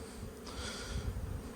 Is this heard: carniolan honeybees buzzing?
yes